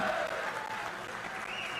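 Audience applause at a Dasara inauguration gathering, a steady dense wash of clapping that holds evenly for the whole stretch and is fairly loud.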